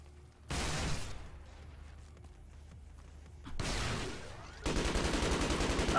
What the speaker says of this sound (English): Wow, that gun sounds really good.